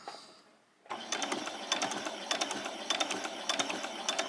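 A sewing machine stitching fabric for a summer top, starting after a brief quiet moment and then running steadily up close with a fast, even rhythmic whirr and regular clacking pulses.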